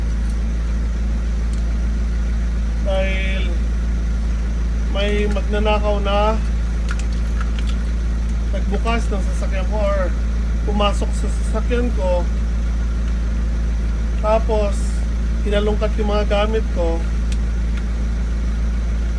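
A truck idles steadily in the background, its low engine drone continuous and even beneath someone talking throughout.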